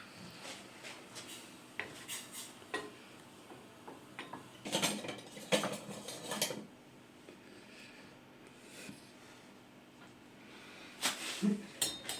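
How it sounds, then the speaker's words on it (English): A utensil scrapes and rubs against a pan as gravy is stirred, in scattered bursts of scraping with quieter gaps between, fairly close. "Just stir it a bit as well, so it don't burn to the pan."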